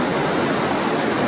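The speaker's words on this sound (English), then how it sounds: "Waterfalls are awesome" A waterfall on North Vancouver Island roars close by, a dense, unbroken wash of rushing water with no breaks or voices over the brief moment.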